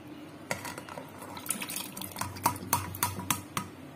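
Split jackfruit seeds being washed in water, with soft sloshing and a series of sharp clinks and splashes against a bowl, close and fairly quiet.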